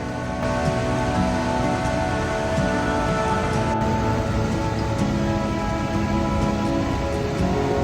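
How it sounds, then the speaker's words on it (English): Steady rain falls continuously in the Icelandic highlands, a dense hiss of drops on surfaces close by, with no voices and only faint distant rumbles. "With a little bit of rain coming down"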